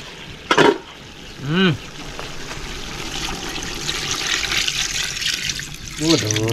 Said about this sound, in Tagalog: Sa akin, lagay ko na rin yung gata.